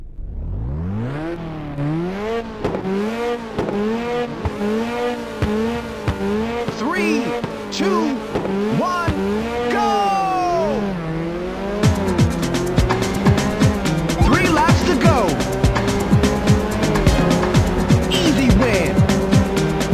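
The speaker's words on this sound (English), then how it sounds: "Now start your engines and get ready." Race car engines from the PSP game Ridge Racer rise and fall through repeated gear shifts, with tire squeals and skids cutting in as the cars corner, loud and continuous throughout.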